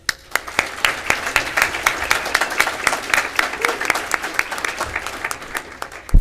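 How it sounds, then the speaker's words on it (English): An auditorium audience at a state FFA convention claps in a dense, sustained burst of applause that carries on for several seconds, loud and continuous. "Please join me in a round of applause to show our appreciation to all those who helped make tonight"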